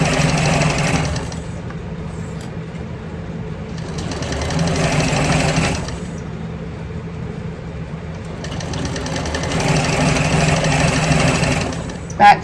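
A sewing machine back stitches a handbag seam in bursts of rapid mechanical whirring and clatter, three runs separated by quieter gaps, close and loud.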